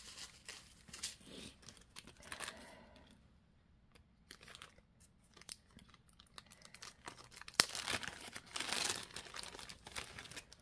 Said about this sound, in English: got this in a plastic bag so it doesn't dry out